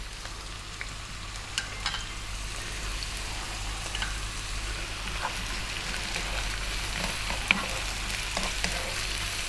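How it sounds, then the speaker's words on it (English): Eggplant and carrots stir-fry over high heat in a pan, a steady dense crackling sizzle that carries on throughout, with scattered light ticks and scrapes from stirring, close but fairly quiet. "We're going to stir fry this around for about 4 minutes"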